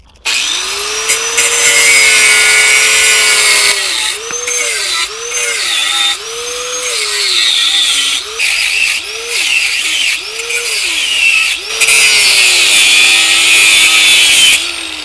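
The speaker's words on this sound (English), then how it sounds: "So I'm going to have to grind them off to get this pressure plate off." Power grinder cutting off stripped bolt heads on a 2002-06 MINI Cooper S clutch pressure plate, a loud, close high whine with rising and falling motor pitch as it bites in bursts.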